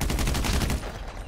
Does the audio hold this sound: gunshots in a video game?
yes